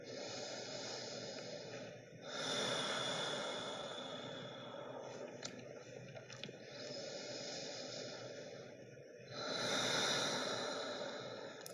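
Slow, deep breaths during a chair yoga session, close and audible, with long inhales and exhales alternating in an even rhythm, each breath stretching a few seconds with no talking.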